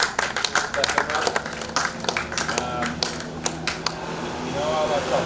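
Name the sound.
applause at tennis prize giving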